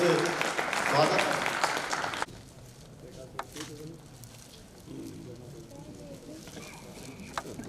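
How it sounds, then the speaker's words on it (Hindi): Applause from an audience at a Corona warriors honour ceremony, a loud dense burst of clapping that cuts off abruptly, followed by quieter room sounds and scattered speech. "जोरदार तालियों से स्वागत।"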